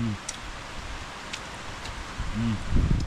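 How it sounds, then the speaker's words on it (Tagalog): Rain falls outdoors in a rural farm setting as a steady, soft hiss. Brief voices and a few rustles break in near the start and end. "Umuulan na naman mga idol."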